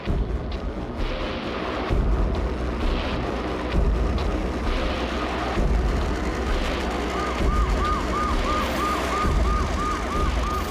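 An ambulance siren wails in a repeating rising-falling pattern, partly buried under loud dramatic music and booming effects in a tense scene.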